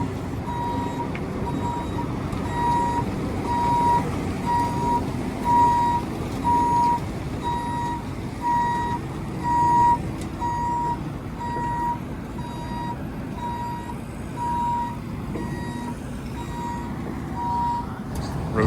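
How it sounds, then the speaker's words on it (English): A truck backs up to load contaminated dirt, its backup alarm sounding a steady run of evenly spaced beeps over a rumbling diesel engine, with talk heard now and then. "He's backing back up there so they can load the rest of that contaminated dirt in there."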